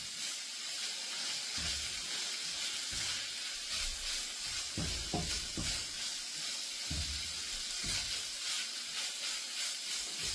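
Dirty rice ingredients cook in a pan with a continuous quiet sizzle and steam hiss, punctuated by occasional scraping knocks as everything is tossed around.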